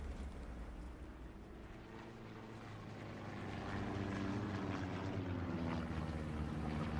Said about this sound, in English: Recon plane coming up as well.